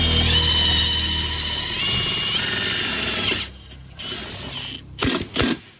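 A power drill whines steadily as it drives self-tapping screws into a CFMOTO ZFORCE 950 skid plate, a sustained high motor tone lasting a few seconds, then dropping away to a couple of short, sharp bursts and clicks.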